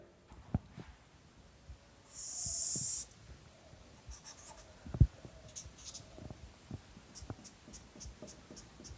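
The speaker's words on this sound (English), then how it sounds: "And just I am going to draw a figure here." Chalk or pen drawing a physics figure on a board in a classroom lecture, with a long scratchy stroke and scattered faint taps and squeaks, fairly quiet and without talk.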